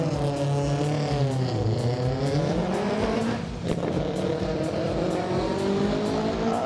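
A drag race car at the UAE drag race revs loudly in a rising, roaring engine note, dips briefly as it shifts, then keeps pulling hard, close and dominant throughout.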